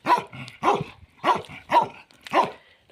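A guard dog on a farm in Croatia barks five times in a steady rhythm, close and loud, each bark sharp and gruff.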